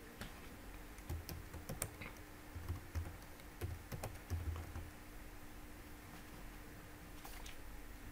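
Soft keyboard typing, irregular clusters of key clicks over a quiet background hiss, with brief pauses between bursts.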